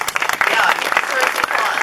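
Steady applause from an audience at an award ceremony honoring a longtime community supporter, dense continuous clapping filling the space with some mixed crowd noise.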